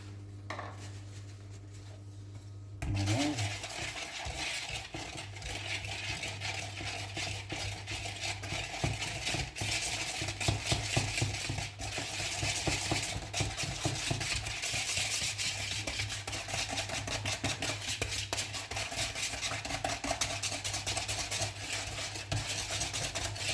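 Egg, sugar and custard powder whisked together in a bowl, with a rapid, continuous scraping and clatter of the whisk against the bowl that starts after a quiet opening and keeps a steady rhythm throughout, close up.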